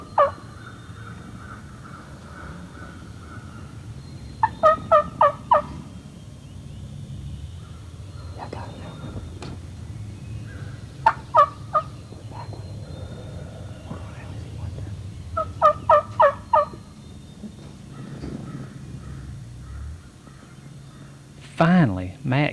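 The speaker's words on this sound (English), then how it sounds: "He cannot get these turkeys in the frame." Wild turkeys in spring gobble in several rapid, rattling bursts spread across the stretch, standing out over a quiet outdoor background while someone narrates throughout.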